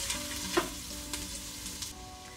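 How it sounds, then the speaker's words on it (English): Garlic and ginger sauté in a pan for rajma curry, a soft steady sizzle with a few light scraping stirs and clicks from the spoon against the pan. "A quick mix for all the garlic and ginger to saute and the aroma to release."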